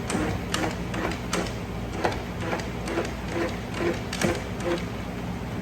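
A salad spinner whirs steadily as it spins freshly washed lettuce, its mechanism giving a continuous hum with faint rhythmic ticks, close by and alone.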